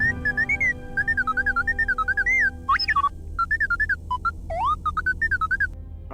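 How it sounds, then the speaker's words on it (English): A droid in Star Wars KOTOR II chirps out a run of warbling electronic whistles and beeps: a steady string of rising and falling tones, clear and fairly loud over a low background hum, with no voices. "there's a series of low-pitched whistles and beeps"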